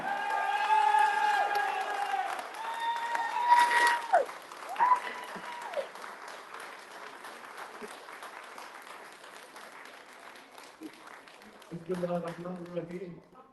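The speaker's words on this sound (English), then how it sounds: "Let's give him another standing ovation." A political rally crowd greets a speaker with sustained applause and cheering, loud at first and tapering off, with a voice speaking near the end.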